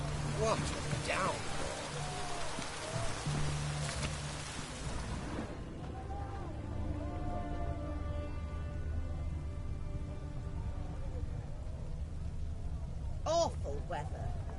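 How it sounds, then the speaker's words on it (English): A heavy downpour in The Witcher 3: Wild Hunt, steady rain hiss that thins after a few seconds, with a low rumble and occasional voices in the background. "What a downpour."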